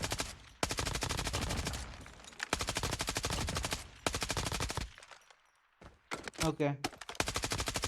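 Rapid automatic fire from the SO-14 rifle in Call of Duty Mobile, loud bursts of gunfire in several long strings separated by short pauses, with a brief spoken word near the end.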